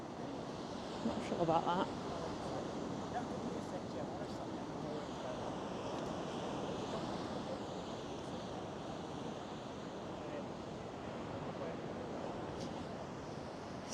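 Sea waves washing ashore at a caravan park beach, a steady broadband surf wash with some wind rumble, while a person speaks quietly over it.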